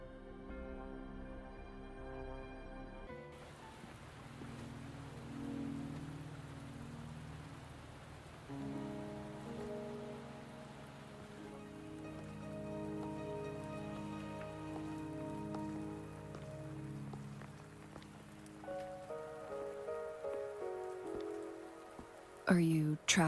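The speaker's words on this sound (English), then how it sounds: "Are you trapped here by the rain?" Steady rain falling in the video game Wuthering Waves, a constant soft patter under sustained background music throughout.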